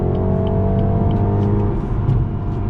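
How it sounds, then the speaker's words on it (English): A BMW in Sport Plus mode pulls hard under throttle from inside the cabin, the engine drone climbing steadily with a brief dip as it shifts gear, loud and close with no talk. "Let's go ahead and get back on throttle. Here we go. Nice smooth shifts."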